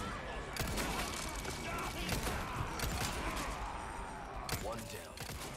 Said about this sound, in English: Shooting, dude.